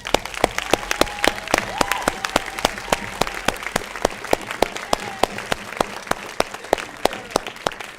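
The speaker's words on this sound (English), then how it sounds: "He deserves a round of applause." An award show audience at the first annual WideScreen Festival claps in a loose, sparse rhythm of distinct sharp hand claps, fairly close, with a faint tonal hum behind.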